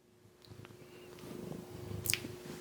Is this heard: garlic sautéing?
no